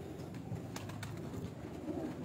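A female pigeon coos softly in a rooftop loft, with low, faint calls over a steady background hum and a few light clicks.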